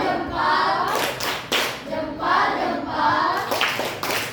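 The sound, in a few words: classroom 'tepuk salut' clapping pattern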